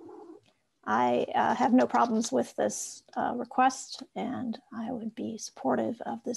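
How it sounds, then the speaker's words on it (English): A pet cat meows and purrs in the background of a council committee meeting held remotely, faint and close, mostly beneath a continuous spoken comment. "I'm sorry about my cat."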